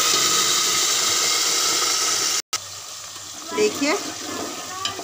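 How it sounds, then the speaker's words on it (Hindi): Pieces of mutton go into hot oil seasoned with cumin, setting off a loud, steady sizzle that breaks off for a moment and then hisses on, while someone speaks briefly over it. "अब मैं इसमें गोश्त डाल देती हूँ"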